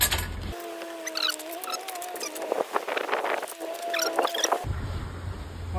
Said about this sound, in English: you want to come out and wind it out a couple of feet at a time